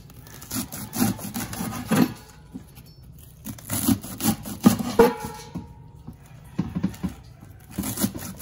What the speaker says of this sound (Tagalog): gagayatin na po ni tatay yung gabi